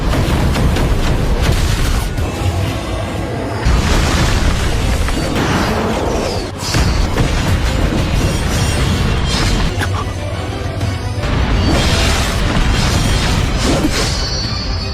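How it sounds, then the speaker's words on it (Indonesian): Weapon attack blasts from Soul Land 2 animation: a loud, continuous barrage of booming explosions and crashing bursts with repeated heavy impacts throughout, dense and close, with no talking. "senjata keamanan dari Kekaisaran Matahari Bulan menembakkan serangan mereka ke arah"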